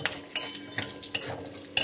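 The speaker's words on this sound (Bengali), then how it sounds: "আমি এর মধ্যে গোটা গরম মশলা আর জিরে ফোড়ন দিয়ে দিলাম।" Whole garam masala and cumin seeds tempering in hot oil give a soft, quiet sizzle, broken by several sharp clinks and scrapes of a utensil against the pan.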